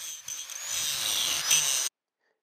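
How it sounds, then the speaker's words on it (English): A grinder working steel, taking welds off a steel router table fence, giving a steady high-pitched abrasive whine for about two seconds before cutting off abruptly. "I need to grind the welds off this side so that it clears the table,"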